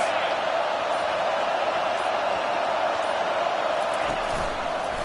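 Steady roar of a stadium crowd in an American football video game, a continuous broadband wash of noise holding at even loudness throughout with no clear voices on top.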